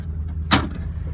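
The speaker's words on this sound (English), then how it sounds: "the other thing we can do is pop the trunk" The trunk of a 1974 Cadillac Fleetwood Brougham pops open indoors in a dark parking garage: a single sharp, close clunk over the low hum of the idling engine.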